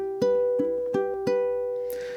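Ukulele fingerpicking bar 1 of an etude in 6/8: a handful of clear, plucked notes in a steady lilting rhythm, each one ringing on into the next, played solo and close with no talk.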